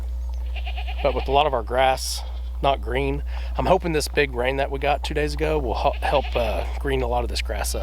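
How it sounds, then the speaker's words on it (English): Goats crying and bleating from behind a farm fence during breeding season, with wavering calls recurring throughout under someone talking steadily close by. "y'all can probably hear the goats over there crying"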